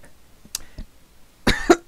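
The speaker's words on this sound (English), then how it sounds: "Had a cough." A person coughs during a tabletop role-playing game session: a faint early cough, then a louder burst of two or three harsh coughs near the end, close to the microphone.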